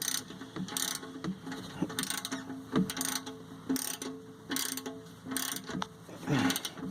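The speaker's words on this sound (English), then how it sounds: "right after it drains, just put the bolt back in." A ratchet wrench tightens an oil drain plug bolt during a car oil change, giving repeated bursts of quick metallic clicks in an uneven rhythm, close and moderately loud, with no talking.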